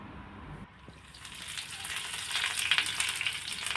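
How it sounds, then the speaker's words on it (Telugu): Dried chillies, garlic, onion and curry leaves frying in a pan give a hissing sizzle that swells and crackles more strongly toward the end, heard close up with no talk. "కొద్దిగా కరివేపాకు ఇవన్నీ కొంచెం ఫ్రై అయ్యేటట్టు అన్నీ కలిసేటట్టు కొద్దిగా ఫ్రై చేసుకోవాలి"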